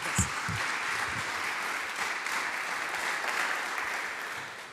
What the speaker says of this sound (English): let's just take a moment and acknowledge our colleagues with a round of applause